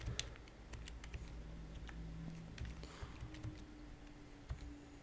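Typing on a computer keyboard gives faint, scattered key clicks in irregular short bursts over a low background hum, with no talking.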